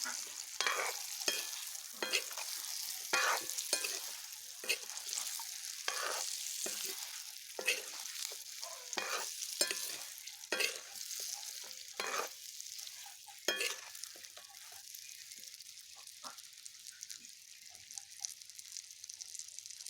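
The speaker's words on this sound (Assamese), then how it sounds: "আমলখি দি এতিয়া মই লৰাই দিম।" Chopped amla (Indian gooseberry) for pickle is stirred in a hot pan, with repeated scraping strokes of a spoon over a soft sizzle, rhythmic and close, and the stirring gradually thins out toward the end.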